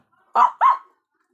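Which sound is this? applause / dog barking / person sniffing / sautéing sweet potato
dog barking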